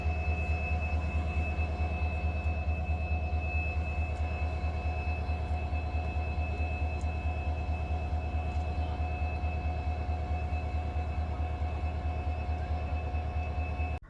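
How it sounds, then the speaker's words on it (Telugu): A diesel locomotive arrives on a trial run at Kanigiri railway station, rumbling steadily with a deep engine drone and tonal hum, constant and close throughout, no voices. "వచ్చేసిందండి ట్రైన్ అయితే ట్రాక్ మీదకి వచ్చేసింది"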